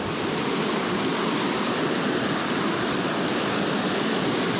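A fork of a California river running low in drought, a steady broadband wash of flowing water rushing continuously near at hand with no voices.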